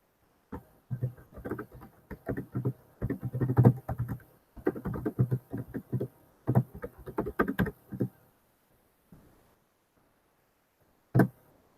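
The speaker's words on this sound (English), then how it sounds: "Darn typing. I press the key, yet it doesn't take the press." Someone types on a computer keyboard in quick bursts of close, crisp keystrokes separated by short pauses, then a few isolated taps, with no talking.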